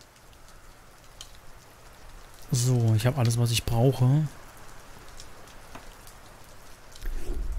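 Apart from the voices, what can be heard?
rain falling in the video game Deiland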